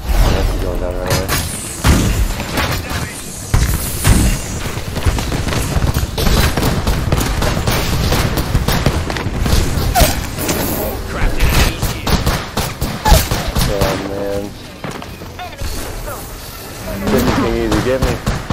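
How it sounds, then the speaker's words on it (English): Apex Legends gunfire crackles in quick bursts and scattered shots, mixed with thuds and mechanical clanks, while players talk over much of the action. "They're shooting at me."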